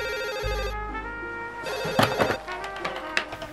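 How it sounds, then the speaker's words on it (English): A telephone rings with a repeating electronic tone, steady and fairly close, and some clattering is mixed in partway through. "Then the phone rang."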